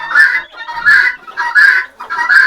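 Ducks quack loudly and close by, four harsh nasal calls spaced roughly half a second apart.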